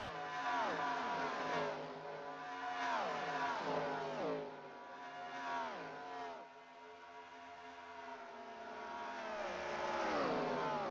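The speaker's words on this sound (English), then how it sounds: "as you enjoy this flyby as the cars roar past at nearly speeds of 200 miles an hour" NASCAR race cars roar past at nearly 200 mph, a loud string of engine flybys, each pitch sweeping downward as one car after another screams by in quick succession.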